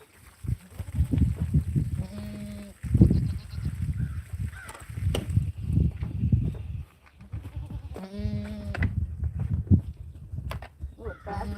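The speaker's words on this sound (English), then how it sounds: "Goats in your corn again." Goats bleat on a farm where they have got into the corn, several calls rising through steady rustling and clopping farm noise at close range.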